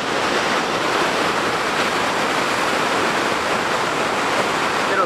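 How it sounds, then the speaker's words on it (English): Steady, unbroken roar of rushing air and falling water at Falls Creek Falls waterfall, loud and close throughout with no pauses. "It's just a constant, never-ending wind."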